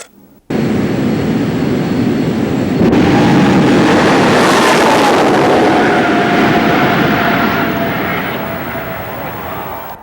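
A jet dragster, the Green Mamba, racing down a drag strip in 1990, bursting into a loud roaring jet blast that builds, holds as it passes and fades slightly toward the end.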